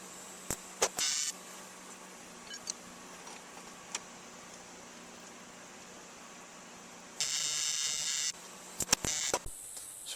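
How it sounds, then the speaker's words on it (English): Aluminum brackets for a foam and fiberglass pontoon boat being welded, a faint hiss with two bursts of steady buzzing arc noise, one about a second long and one about a second and a half, plus sharp clicks between. "I'm going to weld this little bit and that little bit and try not to weld it to my clamp"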